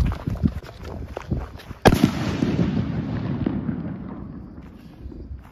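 A Krish Diwali firecracker goes off with one sharp, loud blast, followed by crackling and a rumbling tail that slowly fades, with smaller pops before it.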